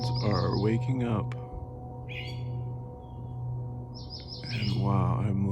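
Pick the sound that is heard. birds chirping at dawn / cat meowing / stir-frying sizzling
birds chirping at dawn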